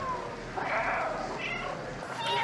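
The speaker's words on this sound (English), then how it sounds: "This was the warning I gave about meowing through the dialogue" A cat's short meows from the video game Stray, a couple of mid-pitched calls over a soft game background with a faint voice underneath.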